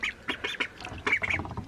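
Several ducks quack in quick, repeated bursts close by, the calls overlapping in an uneven, chattering rhythm with no talk over them.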